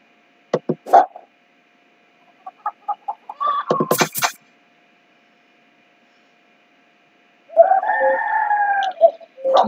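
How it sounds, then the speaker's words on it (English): In the farming game Country Life Meadows, a rooster clucks in short bursts and then gives a long, loud crow, with a short second crow near the end, all in silence. "Cock-a-doodle-doo."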